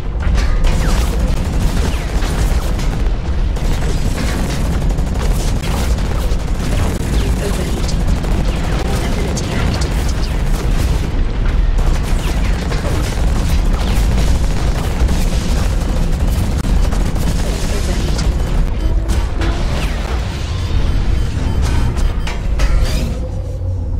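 Dense, loud mech weapon fire and booming explosions from the game Hawken, with continuous battle noise and rapid shots throughout and a voice talking over it at times.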